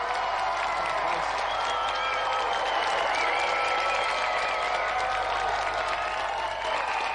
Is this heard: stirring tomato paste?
no